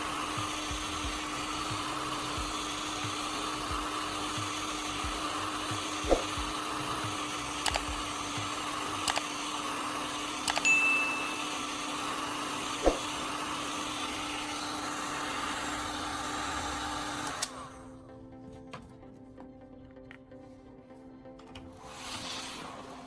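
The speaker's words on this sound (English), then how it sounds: "Using the heat gun once more, I'll warm the plastic, allowing it to slightly expand" A heat gun blows a steady, whirring rush of hot air onto PVC plastic fitted around metal, running evenly for about seventeen seconds before cutting off and leaving a quiet room. No one speaks.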